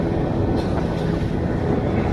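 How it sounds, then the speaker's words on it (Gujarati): A boat moving out on the sea off Goa, with a steady, loud engine-and-water rumble that stays constant and close throughout, plus some wind buffeting and no talking. "અમારી બોટ જાય છે."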